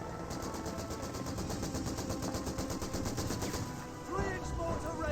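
Machine guns in a World War II strategy video game, MG34 teams firing on a mortar emplacement: continuous rapid automatic fire with overlapping bursts, steady and dense for the whole stretch, with a brief dip near the end before resuming.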